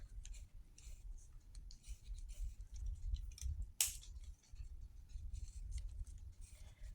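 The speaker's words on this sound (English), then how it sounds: "I make little short strokes when I draw" Bic stick ballpoint pen sketching on paper in short strokes, a faint dry scratching and rubbing that comes in quick bursts, close and quiet, with one sharper scrape partway through.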